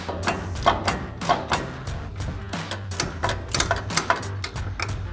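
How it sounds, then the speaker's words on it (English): A 15mm ratcheting wrench clicking rapidly while backing off nuts on a 2019-2023 Ford Ranger front end during a leveling kit install, close bursts of sharp ratchet ticks with short pauses between strokes. "we'll go up top with a 15mm ratcheting wrench and remove our 3 nuts"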